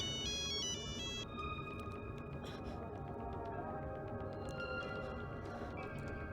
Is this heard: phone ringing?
yes